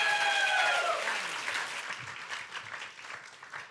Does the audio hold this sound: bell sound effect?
no